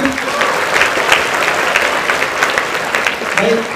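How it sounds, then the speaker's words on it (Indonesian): A seated audience at a student discussion forum claps steadily and fairly loudly for several seconds, a dense, even patter of many hands indoors. "Kita berikan tepuk tangan sekali lagi."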